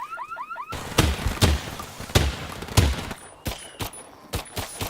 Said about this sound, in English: you must jump onto this car, which is rigged to go off at the alarm